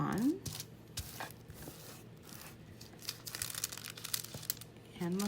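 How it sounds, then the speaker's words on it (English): Prima foil rubbed by hand onto glue-pen lines for craft foiling, giving soft, close crinkling and rustling that runs steadily for several seconds with small scratchy bursts and a quieter voice-like tone near the start and end. "this is Prima's foil, and just rub it on"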